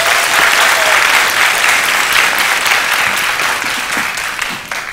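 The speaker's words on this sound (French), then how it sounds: "Est-ce qu'on peut les applaudir" Audience at a youth human rights debate final in Guinea applauds the university team playing the third-place match, a loud, dense sustained clapping that gradually tapers toward the end.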